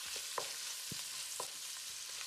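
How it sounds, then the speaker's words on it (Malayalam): Onions and green chillies sauté in a pan, a faint, steady sizzle with a few soft stirring knocks and clinks, no talking. "സവാള അവിടെ ഇങ്ങനെ സോട്ടായിക്കൊണ്ടിരിക്കുക കേട്ടോ"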